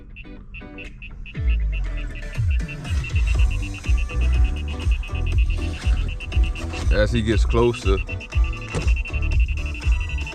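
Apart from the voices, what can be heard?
radar detector beeping as police car approaches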